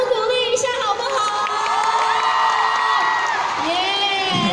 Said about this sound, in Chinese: 掌声鼓励一下好不好？